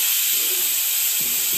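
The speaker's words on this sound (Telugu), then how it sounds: "2 విజిల్స్ వచ్చాక మనం స్టవ్ ఆఫ్ చేసేసుకుని" A pressure cooker whistles while cooking mushroom biryani, releasing a loud, continuous, close-up hiss of steam that holds steady for the whole stretch.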